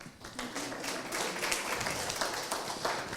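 A city council meeting audience claps for an officer's family, a modest, steady patter of hands at moderate distance lasting a few seconds.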